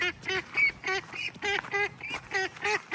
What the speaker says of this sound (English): I'll get the other ducks over here.